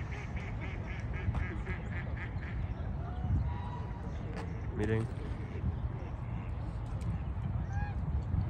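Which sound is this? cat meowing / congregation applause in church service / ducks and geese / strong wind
ducks and geese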